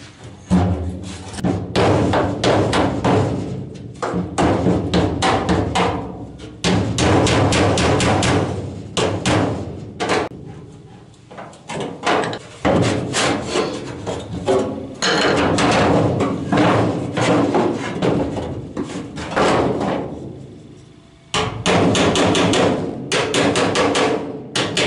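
Repeated loud metallic hammer blows knocking dents out of the tunnel panel of a Citroën Traction 11B car body, rapid rhythmic strikes in long bursts with short pauses between them.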